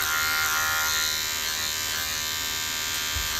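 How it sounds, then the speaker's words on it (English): Electric hair clippers buzz steadily and close up throughout, scooping through hair while cutting a fade, with a constant motor whine and no talking. "Angling my clipper down in and then scooping out."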